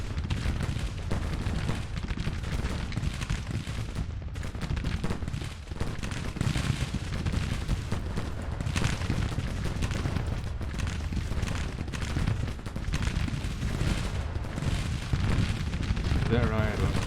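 Artillery guns in a Grand Tactician Civil War battle boom in a dense, continuous barrage of cannon fire and rumbling blasts, loud and layered throughout, with a voice talking over it.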